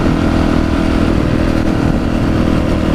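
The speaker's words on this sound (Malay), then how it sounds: "Sekali-sekala kena berjalan, kena start motor." Motorcycle engine running steadily at close range after a start-up, a continuous low mechanical drone with no talk over it.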